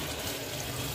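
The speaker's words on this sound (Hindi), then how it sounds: "इसमें डालेंगे थोड़ा सा पानी" Water is poured into mutton liver curry in a pan, a steady close splashing pour lasting about a second with no speech.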